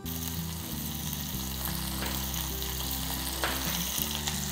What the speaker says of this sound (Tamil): லேசாக வதக்கிக்கோங்க.